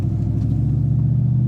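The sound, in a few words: 2002 Ford Mustang GT engine rumbling as it takes off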